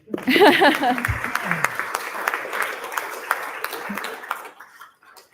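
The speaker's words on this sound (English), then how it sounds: "Maybe we'll do a little applause here." Applause breaks out from an audience at a NASA Watts on the Moon Challenge prize event, a scattered burst of clapping that rises quickly, holds for several seconds and fades out, with a voice heard briefly at the start.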